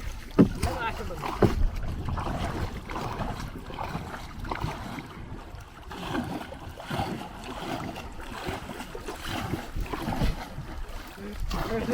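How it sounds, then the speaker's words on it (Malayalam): Strong wind sweeps across the open Vembanad backwater lake, rumbling and buffeting the microphone around a small fishing boat, with water sloshing and occasional knocks over a steady gusty roar. "നല്ല കാറ്റുണ്ടല്ലോ"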